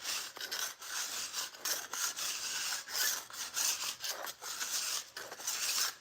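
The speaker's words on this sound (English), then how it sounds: "So here's a little cheap dressing tool. It's just a file." A cheap hand file dressing the worn lip of a chainsaw bar in a garage, steady rhythmic rasping strokes, close and fairly quiet, repeating with short pauses between passes.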